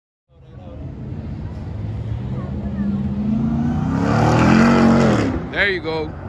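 Turbocharged off-road trucks, a TRX and a Raptor, at an off-road event at Durhamtown, an engine sound building steadily then revving up strongly near the end, with people talking and shouting over it.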